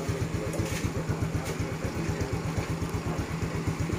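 A motorcycle with a freshly installed aftermarket exhaust runs near by, its engine thumping in a fast, even idle pulse with a raspy exhaust tone that holds steady throughout.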